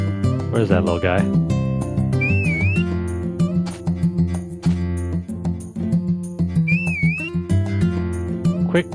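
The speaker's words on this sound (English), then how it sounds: "if you whistle, you can call your horse" In the Harvest Moon: A Wonderful Life Special Edition farming game, a character whistles to call an animal, giving two short warbling whistle calls several seconds apart over busy background game music and sound effects.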